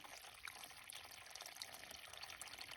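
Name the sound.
forest stream water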